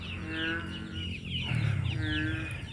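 Chickens and a rooster gathering to be fed on a farm, close clucking and grumbling calls with a brief low crow-like note, steady and fairly quiet over a little background hum.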